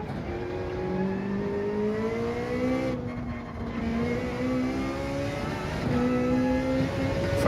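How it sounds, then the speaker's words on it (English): Loud, close engine of a Ferrari 458 in a Gran Turismo 7 Gr.3 race, pitch rising steadily through the gears with brief drops at shifts. "the Ferrari 458 is the car I'm in"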